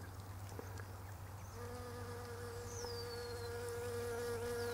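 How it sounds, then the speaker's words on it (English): Outdoors by a Japanese quince bush, a bee buzzes close by in a steady droning hum that grows fuller and clearer partway through, over a low constant background hum. "Where's that bee?"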